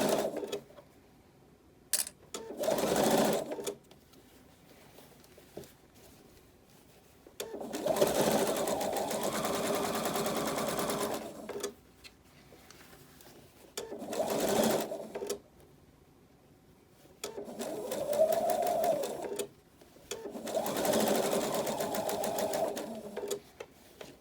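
A sewing machine stitches a six-panel welding cap without a band in repeated bursts of rapid mechanical whirring, each several seconds long, separated by quiet pauses while the fabric is repositioned. The sound is close and steady with no talking.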